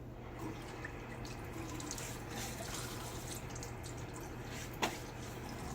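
Hard cold water running from a tap into a sink and splashing as a face is wet before shaving, a quiet, steady trickle close by with one brief splash near the end.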